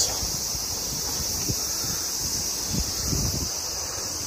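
Strong wind gusts during a heavy rainstorm roar steadily on a balcony, a broad constant rush with a few louder low thumps and buffeting bursts, no talking.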